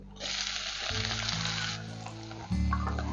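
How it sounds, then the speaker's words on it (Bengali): Chopped onion fries in a pan over whole cumin, a bright steady sizzle with a low hum underneath that surges louder near the end. "পেঁয়াজটাকে একটু ভেজে নেবো"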